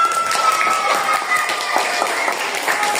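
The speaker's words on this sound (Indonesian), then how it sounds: "Ya, tepuk tangan dulu untuk hasil kerjanya." Schoolchildren in a classroom clap their hands for a group's work, a loud, busy burst of overlapping claps with a faint background voice.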